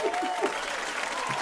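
A short round of applause from a studio audience, a brief dense patter of clapping at moderate volume.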